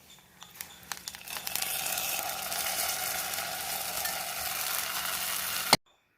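Roasted coconut is poured into a pot of kachil (purple yam) erissery, setting off a loud, broad sizzle that swells after a few soft clinks, holds steadily, then cuts off abruptly near the end.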